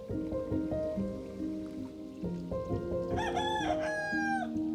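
A rooster kept among exotic animals crows once, loud and close, its long harmonic call rising over softer clucking chicken sounds and a steady patter like rain.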